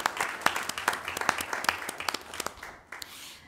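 Applause at a school board of education meeting honoring sponsors, with a modest crowd clapping in crisp, close claps that thin out and fade toward the end.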